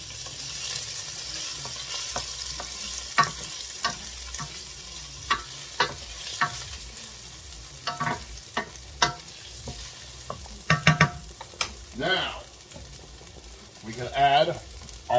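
Garlic sizzles in a pan for a linguine with clams and mussels, with a steady low frying hiss broken by repeated sharp scrapes and clacks of stirring; a couple of brief voice-like bursts occur near the end.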